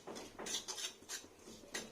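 Semolina is stirred while dry frying in a pan: a quiet run of about six spoon scrapes and taps against metal, close but faint, with no voice.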